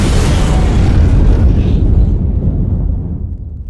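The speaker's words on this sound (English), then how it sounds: "The Kestrel just took a missile hit." A missile strikes an aircraft in the Ace Combat 5 flight combat game, a loud, heavy explosion with a deep rumbling boom that holds steady and then fades away over several seconds, with no voices.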